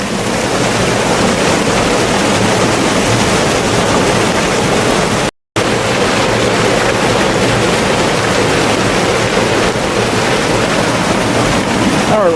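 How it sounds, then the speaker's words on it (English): Running water flows in a partly frozen stream near a New Jersey cedar swamp bog, a steady, loud broadband rush mixed with some wind buffeting on the microphone, continuous apart from a brief dropout. "We do have some running water though over here."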